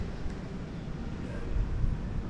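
Strong wind blows outdoors near the sea, a steady, close low rumble of gusts buffeting the microphone that swells slightly toward the end, with no voices.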